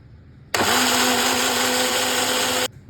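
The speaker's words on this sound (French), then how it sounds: "on va mixer tout ça" A kitchen blender mixing homemade hummus, flakes, soy sauce and water starts abruptly and runs at a loud, steady whir for about two seconds, then stops.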